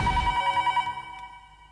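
A telephone bell rings in a steady repeated trill, clear and fairly close, then fades out toward the end. No one speaks.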